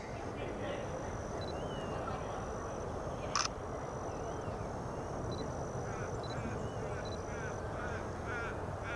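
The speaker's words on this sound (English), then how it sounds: "There's a Pacific black duck just chilling, doing nothing." A Pacific black duck gives a few faint, distant quacks, scattered through a steady wash of wind and outdoor background noise at a wetland.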